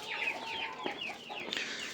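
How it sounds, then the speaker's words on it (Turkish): Several chickens cluck softly in short repeated bursts, fairly distant and quiet, with a faint background hum. "Tavuklarımız burada."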